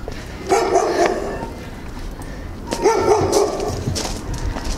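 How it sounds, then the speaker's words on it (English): Several dogs bark outdoors near a park, with two clusters of sharp, mid-distance barks and whimpers over steady background noise. "Got a lot of dogs around here."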